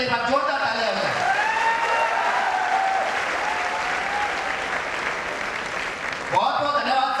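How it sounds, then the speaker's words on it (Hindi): Enthusiastic applause from a gathered audience at an event in Lucknow, a dense sustained roar of clapping with whoops rising over it, fading slightly before a brief swell at the end. "एक बार जोरदार तालियां हो जाए"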